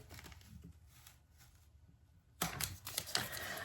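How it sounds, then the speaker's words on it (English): A sticker is peeled slowly from a cardboard shipping box, faint at first and then a louder burst of crackly tearing and scraping near the end, close up with no voices. "I'm peeling the sticker off oh so gently."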